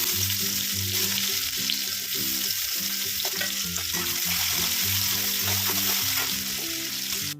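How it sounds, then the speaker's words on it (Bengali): Onions sizzling in hot oil with cumin, dried chilli and bay leaf, a steady close crackle that runs throughout without any talk. "পেঁয়াজ ভাজা হয়ে গেছে"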